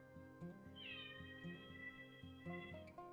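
A cat somewhere below, under a canopy outdoors, gives a drawn-out meow over a steady humming background, faint and at a distance, with no talk.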